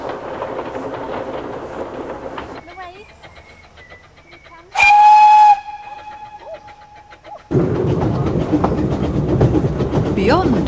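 A heritage railway train climbing a valley toward Abergynolwyn rumbles along, then a loud steam whistle sounds briefly before the running noise returns, louder and closer.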